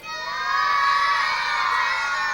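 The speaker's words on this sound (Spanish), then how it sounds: "¿Que se meta alguno de los niños que están gritando ahí?" Children shout and cheer together at an outdoor puppet show in Alqueries, a steady, loud crowd of high voices sustained for the whole stretch with no clear speech.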